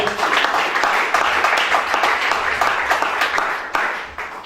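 A church congregation applauds and cheers during a sermon, a loud, dense and continuous wash of clapping that fills the whole stretch.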